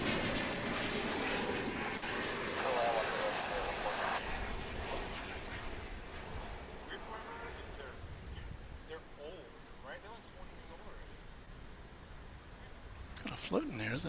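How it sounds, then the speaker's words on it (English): An American Eagle Embraer 175 comes in to land at DFW with a steady, distant jet roar that slowly fades. A person talks over it throughout. "It's an American Eagle. It's an Embraer 175."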